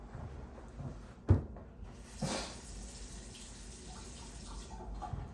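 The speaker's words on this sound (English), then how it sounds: "I'm going to wash my hands here." Hand washing at a sink in a clinical exam room, with tap water running faintly and steadily, a brief splash or knock near the start and no talking.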